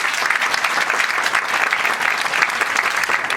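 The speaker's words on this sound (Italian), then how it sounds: "un applauso." Audience applause in a mosque in Udine's Borgo Stazione during a community aperitivo event, dense steady clapping filling the room at even loudness from start to finish, with no voices standing out.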